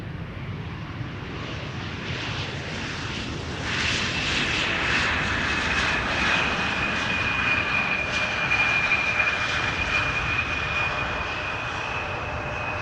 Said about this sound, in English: KLM flight 604 arriving from LAX is now going to the center runway